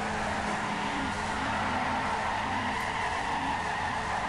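Tires skid and squeal continuously as a car drifts in the Torque Burnout iOS game, a loud, steady screech that runs without a break.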